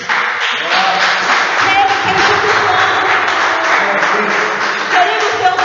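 A church congregation claps steadily through a sustained, moderately loud ovation, with scattered voices and a faint tone ringing over the dense patter.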